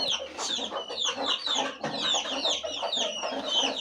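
Chickens in a small poultry house, with a UV bulb set up to keep them warm in winter, cluck and chatter continuously from close by, with overlapping calls and no talking.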